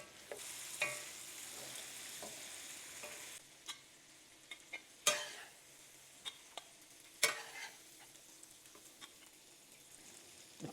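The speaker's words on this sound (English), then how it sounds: "A pinch of salt to add on top. Sprinkle it on top. And then give it a toss." Garlic butter soy sauce mushrooms frying in a sauté pan give a soft, steady sizzle. Sharp clinks and scraping bursts of tossing and stirring break in repeatedly.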